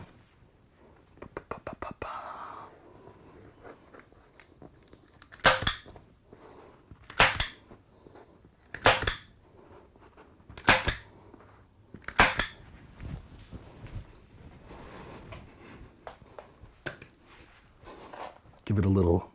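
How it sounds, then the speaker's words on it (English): Staple gun firing staples through fabric into an acoustic panel frame: about six sharp, loud snapping shots spaced a second or two apart, with quiet handling noise and brief low talk between them. "Staple gun. I do the two ends first."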